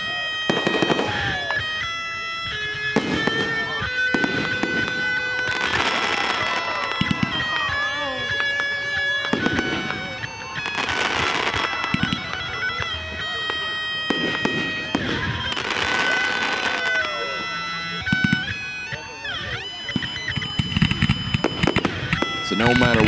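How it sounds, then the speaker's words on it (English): Independence Day fireworks bang and crackle repeatedly over music, with layered booms and sparkling pops continuing steadily throughout. "fireworks"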